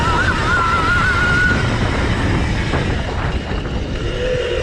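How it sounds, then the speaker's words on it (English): A Drill One EVO electric dirt bike being ridden gives a loud, steady rush of wind and tyre noise, with a high motor whine that holds early on and a lower whine surfacing near the end. No one talks. "on full throttle because I am trying to be aware of not overheating this bike, but it's got lots of power."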